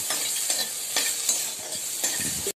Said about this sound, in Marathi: दोन टमाटे मी कापून ठेवले ते पण टाकूया, 2 मिनिटं छान परतून घ्यायचं हे।